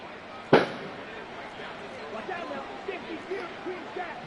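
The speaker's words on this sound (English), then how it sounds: "Fucking fireworks, bro." A single sharp firework bang cracks out near the start, followed by faint distant pops and crowd chatter in the background.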